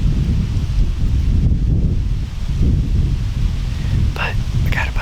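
On a chilly November hunting outing outdoors, strong wind buffets and rumbles across the microphone in a continuous low roar, with faint rustling and a brief higher noise near the end.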